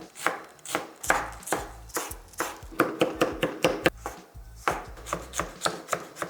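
A knife chops ingredients for ackee and saltfish on a cutting board, a steady series of sharp, close taps in quick bursts with short pauses, alone without talk.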